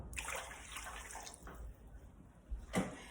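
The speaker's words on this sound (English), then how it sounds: "32 ounces of beef broth and 2 cups of water." Beef broth and water poured into a cooking pot for homemade dirty rice, a steady close liquid splash and gurgle running the whole time with a brief louder surge near the end.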